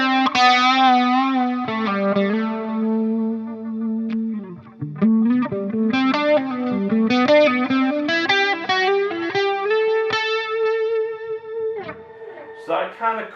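Electric guitar played through a versatile amp with chorus effect, clean-to-lightly-driven single notes and chords shimmering with a wavering doubled tone, sustained phrases and a brief strum near the end, loud and close.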